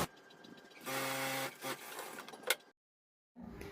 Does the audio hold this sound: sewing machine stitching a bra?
yes